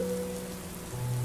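Heavy rain pours down steadily beside a freeway construction site, a constant wash of noise with a low engine hum underneath.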